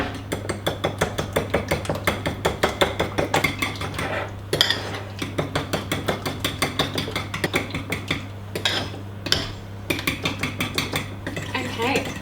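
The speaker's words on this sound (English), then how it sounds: "It says whisk together," A fork whisks wet cake batter ingredients in a bowl, making rapid, even clinking taps close by, with brief pauses between bursts over a constant low hum.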